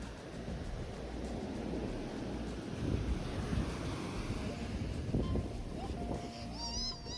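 Ocean surf at Ocean Beach, San Francisco, a steady broadband wash of breaking waves with wind buffeting the microphone, continuous and fairly loud throughout, with faint tonal chirps near the end.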